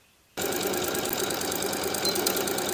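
A sewing machine finishing the raw edges of a one-piece swimsuit band seam starts abruptly after a brief quiet moment, then runs at a steady, fast, rattling stitch rhythm, close and loud.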